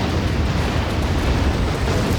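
A continuous roar of artillery shelling in Act of Aggression, with Amos mortar vehicles pounding an enemy base; the dense rumbling explosions blend into one loud, steady wall of noise with no pauses.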